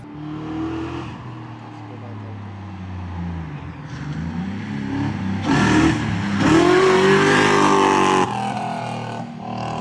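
A Toyota JZX100 Mark II engine revving on a test drive, heard from inside the car as the engine note climbs and falls through gears, rising louder mid-way, with occasional voices underneath.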